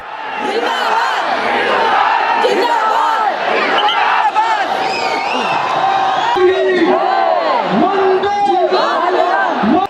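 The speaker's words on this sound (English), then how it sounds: "Both sides cheer and encourage with great shouts of patriotism." A huge crowd at the India–Pakistan border ceremony roars with loud, continuous patriotic shouts and cheers. Individual voices rise and fall over a dense, unbroken wall of yelling.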